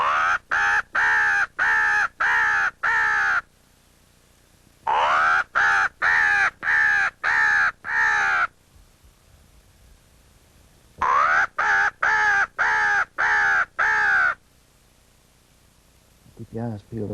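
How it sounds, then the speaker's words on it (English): A crow calls from a distance in wooded country, three bursts of rapid repeated caws separated by quiet gaps. "You hear that crow? Yeah, he's answering."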